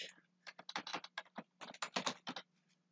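Quick, uneven bursts of typing on a computer keyboard, with close, crisp key clatter in rapid clusters and short pauses between them.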